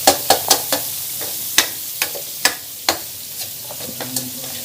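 Shrimp paste (alamang) sautéing in a pan, with a series of sharp, distinct spatula strikes and scrapes over a light sizzle, about a dozen close knocks spaced irregularly, with no voices.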